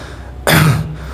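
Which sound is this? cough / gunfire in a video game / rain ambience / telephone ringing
cough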